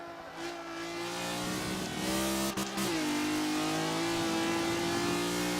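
A race car engine in a racing video game holds a high, steady drone, dips briefly as if shifting gears, then climbs again in a loud, continuous rev.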